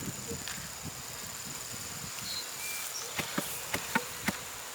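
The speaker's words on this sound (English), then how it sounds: "We'll give these bees a shake up front." Honey bees in a nuc box on a pallet, a soft continuous buzz with rustling and a few sharp knocks near the end, heard outdoors on an overcast early morning.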